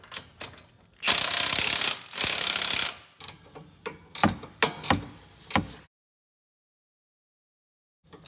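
A hand ratchet tightens bolts while a 2.5-inch lift kit goes onto a 2023-24 Honda Pilot, giving two long, loud runs of rapid clicking, then several short cranks, up close before silence.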